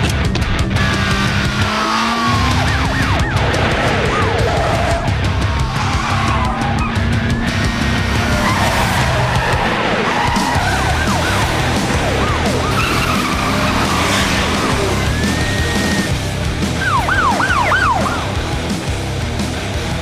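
A $300,000 Ferrari races at high speed through a police chase, its engine roaring loud and continuous while tyres skid and screech in repeated bursts and sirens wail behind it.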